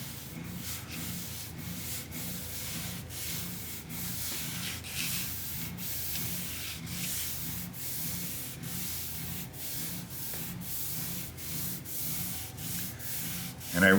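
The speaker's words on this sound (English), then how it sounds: "This is the first time I've ever sanded a finish." Sandpaper rubs back and forth over an orange-peel lacquer finish in steady rhythmic strokes, close and continuous, with no talking.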